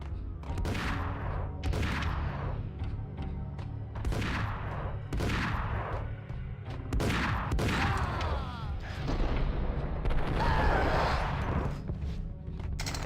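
A sawed-off shotgun fires again and again in the Max Payne video game, heavy booming blasts coming roughly every second amid chaotic gunfight noise, with a brief voice cry in between.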